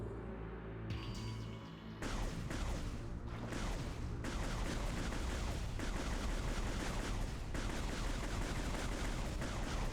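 Creatures bursting into small explosions when shot in Metroid Prime 3, a rapid series of sharp blasts and gunfire-like bangs over a dense, loud rumble of game effects.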